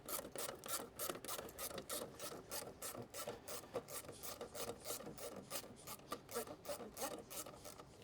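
A ratchet on an extension tightens heat shield bolts during a K&N cold air intake install on a Honda Civic, giving a fast, continuous run of close, even clicks with no talk over it.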